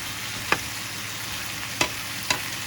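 Onions fry in a pan over medium heat with a steady, quiet sizzle, broken by three short stirring scrapes.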